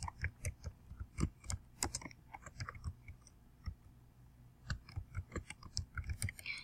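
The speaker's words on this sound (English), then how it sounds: "So I'm going to go ahead and type this information in." Typing on a computer keyboard while entering citation details in Word 2016, quick irregular key clicks in bursts with a brief pause midway, close and fairly quiet.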